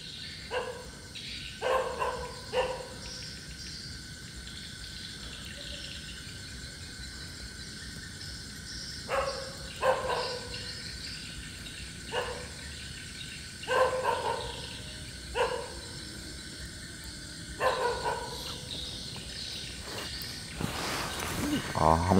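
A dog barks at night at a Vietnamese crossroads. Sharp, isolated barks come in small groups, fairly distant, over a steady bed of crickets and insects, with long quiet gaps between them.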